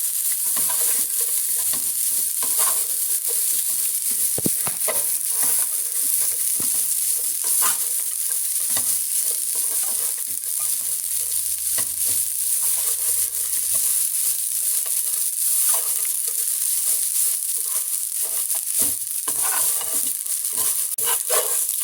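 Fresh coconut roasting in a pan for coconut barfi, a continuous dry sizzle and hiss with frequent scraping stirs from a spatula, steady and close throughout.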